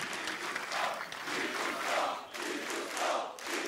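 A large Polish crowd cheers and roars in an arena at an esports tournament quarterfinal in Katowice, a dense continuous swell of voices rising and falling with no commentary over it.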